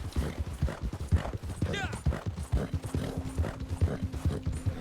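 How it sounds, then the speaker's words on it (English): A horse gallops through deep snow during a winter endurance race in Red Dead Redemption 2, its hoofbeats thudding in a quick, uneven rhythm under steady talking, with a brief whinny partway through. "my horse slowed down immensely"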